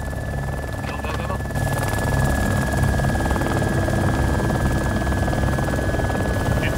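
A helicopter in a military video game drones as a steady, dense rotor rumble with a constant whine, filling the scene loudly, while voices talk faintly over it.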